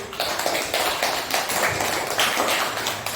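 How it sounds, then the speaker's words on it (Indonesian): A classroom of students claps for classmates who have just presented, a lively burst of many overlapping hand claps, fairly close and continuous with slight rhythmic swells. "Tepuk tangan untuk temannya yang presentasi."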